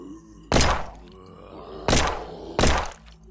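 Three heavy, punchy gunshots or impacts from shooting a zombie in an isometric survival video game, loud and spaced about a second apart over a low ambient game hum, with no talking.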